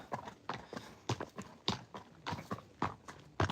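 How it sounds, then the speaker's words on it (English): Horse hooves clip-clop in a steady walking rhythm, close and clear, on a farm where several horses graze on a hillside. "I love our horses too, especially Hunnis."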